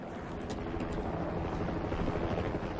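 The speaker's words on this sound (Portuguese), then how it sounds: "Tem um helicóptero sobrevoando." A low, steady rotor drone of a helicopter fills the stretch, moderately loud and continuous.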